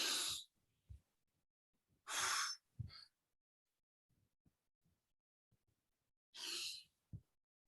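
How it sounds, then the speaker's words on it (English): Two slow, deep breaths, each a long airy inhale-exhale, taken during EFT tapping, with a soft tap or sniff between them and quiet pauses, ending with a third breath near the close. "And then we take 2 deep breaths"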